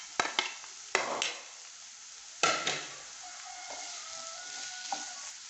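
Chopped medium onion in a pan on the stove for a chicken bun filling, a soft steady sizzle broken by several sharp clinks and scrapes of a stirring utensil against the pan, close and fairly quiet.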